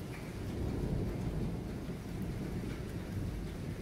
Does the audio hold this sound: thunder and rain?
yes